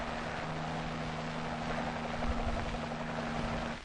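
ARVN helicopter with a steady droning rotor and engine hum, fairly faint and constant, heard alone without voices.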